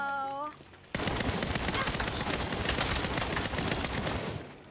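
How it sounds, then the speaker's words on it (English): Rapid gunfire from a sniper rifle in a Saints Row game, a loud burst of dense shots that runs about four seconds after a brief voice. "So I get three shots with that fucking sniper rifle and that's it."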